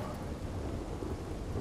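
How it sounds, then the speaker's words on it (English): Steady rain with a low thunder rumble in the Red Dead Redemption II game world, a dense, even hiss and low roll running unbroken throughout with no voices. "It's rain."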